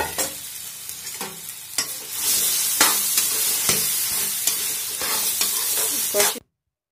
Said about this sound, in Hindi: अब मैं इस दाल को अच्छी तरह से भूनूंगी